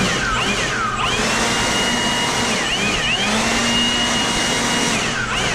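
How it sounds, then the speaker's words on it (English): Compressed air blows a continuous loud hiss across a 6.0 LS V8 engine during a full teardown, with the valve covers already off and the pitch shifting slightly as the nozzle moves. "I'm gonna blow all this out so nothing falls in there."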